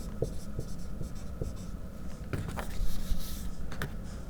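A pen scratches out chemistry equations by hand, steady close scribbling strokes with small taps, quiet and alone without speech.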